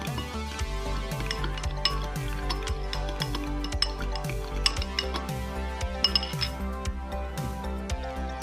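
A chicken marinade of Dijon mustard and olive oil is stirred briskly in a bowl, giving rapid, repeated clinks and scrapes of a utensil against the dish, with no talking.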